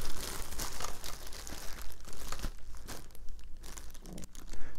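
A plastic bag is crumpled and crinkled by hand up close, giving a dense, continuous rustling and crackling that swells and dips irregularly, used to recreate a smoky kitchen test of a smoke and carbon monoxide alarm.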